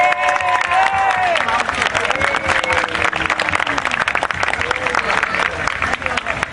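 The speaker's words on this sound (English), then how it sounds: "if we could all collectively give Pat a big round of applause" Audience applause fills a community celebration marking Storyland's 50th anniversary, a dense, steady wash of clapping with cheers and voices mixed in, holding loud and close throughout.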